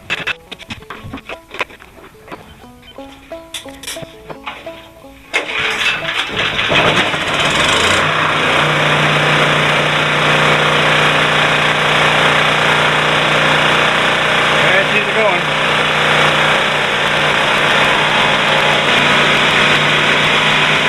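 Petrol generator pull-started: a few rapid rattling pulls of the recoil cord, then the engine catches and settles into a loud, steady running drone that continues to the end.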